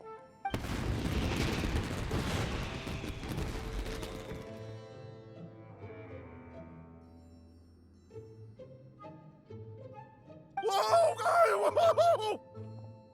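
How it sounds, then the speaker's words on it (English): In the video game Genshin Impact, a dense burst of booming, crackling fireworks fills the first few seconds, then fades to a quieter musical background before a bright sparkling burst near the end. "Yoimiya, this is turning into a bit of a fireworks display"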